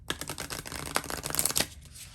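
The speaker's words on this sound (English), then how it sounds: "I heard the shuffling of these cards" Tarot cards are shuffled up close in a rapid, crisp flurry of riffling and flicking that builds and then stops abruptly, leaving quiet.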